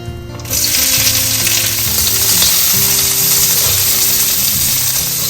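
Chopped shallots drop into hot oil with cardamom, cloves and a piece of cinnamon, bursting into a loud, dense, steady sizzle after a quiet start, close and continuous without speech.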